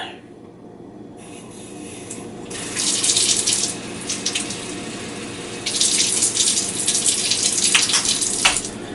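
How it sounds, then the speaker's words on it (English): Tap water runs into a bowl of crumbly polystarch bread dough in two bursts, splashing and gushing close by with a quieter pause between them. "so I'm going to add some more water to it."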